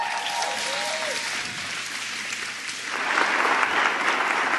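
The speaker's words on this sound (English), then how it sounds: "Another round of applause for Miss Lottie Shackelford right here" An audience at an awards ceremony applauds in a dense, steady wash of clapping, which grows louder and fuller in the last second and a half.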